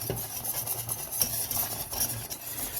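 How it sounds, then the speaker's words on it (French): A whisk stirs caramel into crème fraîche for a salted butter caramel filling, giving a steady, close scraping and swishing against the bowl with rhythmic strokes throughout. "Donc on va continuer à mélanger avec le fouet."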